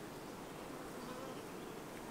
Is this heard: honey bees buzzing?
yes